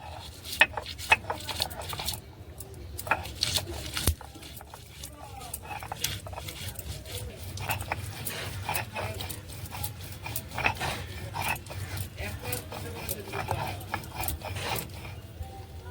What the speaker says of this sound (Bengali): কাঁচা লঙ্কাটা বেটে নেব।